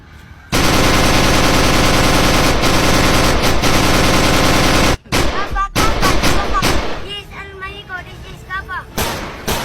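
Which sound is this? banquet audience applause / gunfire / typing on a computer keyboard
gunfire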